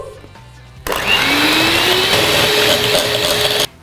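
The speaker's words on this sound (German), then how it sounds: "Und jetzt das Rührgerät." An electric hand mixer whirs steadily and loudly as it beats cheesecake batter in a bowl, its motor pitch rising slightly, starting abruptly after a quieter moment and cutting off just as sharply.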